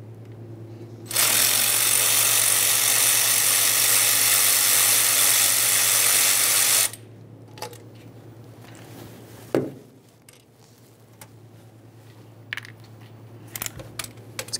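Power tool removing thermostat housing mounting bolts on a 1998-2011 Ford Ranger 2.3L L4, a loud continuous whir lasting several seconds, then quieter clicks and metallic taps.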